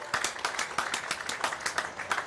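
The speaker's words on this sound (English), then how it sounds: "There we go, round of applause" A rugby league crowd applauds as a player jogs onto the field at a captain's run before the Rabbitohs v Panthers preliminary final: steady, rhythmic clapping from a modest crowd, fairly close and unbroken.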